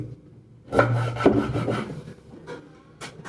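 A knife cuts the tail off a pomfret fish on a board, making a few close crunching, scraping strokes followed by fainter taps.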